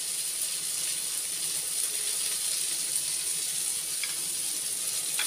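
Cauliflower and potato curry with chili and cumin powder simmering in a pan: a steady, even sizzle and bubbling frying hiss that continues throughout without a break.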